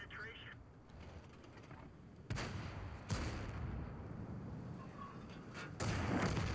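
Tank cannon fire in a World of Tanks battle: sharp booming impacts at a few points over a constant rumble of engines and ambient battle noise, with a final heavier blast near the end.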